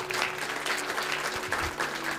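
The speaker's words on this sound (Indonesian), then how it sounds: "Tepuk tangan yang meriah buat Tuhan" A congregation at a church service claps steadily for God, a dense, continuous wash of applause over a faint sustained musical hum, holding an even level throughout.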